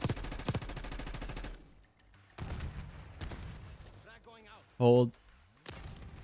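Gunfire in the Black Ops 6 video game, a rapid burst of shots at the start followed by further scattered bursts, with a brief spoken word and other game sounds in between.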